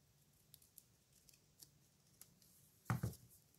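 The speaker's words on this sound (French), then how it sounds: "je viens découper soigneusement le contour" Scissors snipping carefully around an outline, likely paper, for a mini pocket letter craft: faint small clicks, then one loud, close crisp cut near the end, with no talk.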